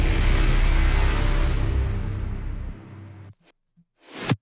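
Cashmere war horn sample, original and unprocessed, playing a loud sustained brassy blast that slowly fades, then a short gap and a brief second swell at the end.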